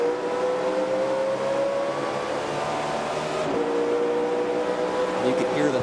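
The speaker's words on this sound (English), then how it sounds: "You can hear the thunder of these 850 horsepower engines on the restarts" NASCAR Sprint Cup race cars with 850-horsepower engines roar together on a restart at the 2008 Bank of America 500. The loud, dense engine drone climbs in pitch as the field accelerates, with a brief pass-by shift midway and crowd noise underneath.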